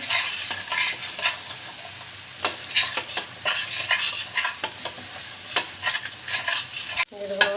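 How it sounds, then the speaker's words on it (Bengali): Spice paste with ground coriander, salt and a splash of water stir-fried for an egg omelette curry, a steady sizzle broken by repeated scraping strokes of a spoon against the pan, close and loud, with a brief clatter near the end and no talk. "মশলাটা ভালোভাবে কষিয়ে নিই"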